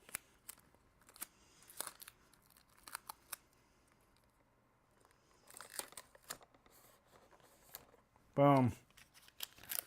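Adhesive tape is ripped off the roll for a 3D Darth Vader holocron build, quick close tearing and crinkling bursts scattered across the stretch, ending with a short voiced exclamation.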